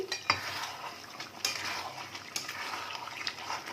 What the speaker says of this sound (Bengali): একটু মিক্স করে দিচ্ছি